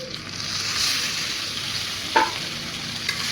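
Spice pastes of dried chilli, ginger, onion, garlic, turmeric and cumin frying in oil for egg curry, a continuous close sizzle with a spoon scraping and stirring through it.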